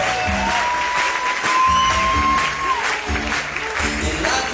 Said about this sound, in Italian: Vorrei facessimo un applauso al Mega Service,